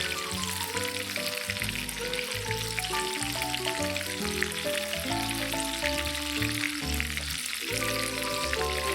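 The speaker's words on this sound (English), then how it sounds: "Just keep turning them over in the oil till they get a nice and even golden brown color." Cheesy chicken fingers fry in hot oil with a dense, close bubbling sizzle that crackles steadily throughout, with no talking.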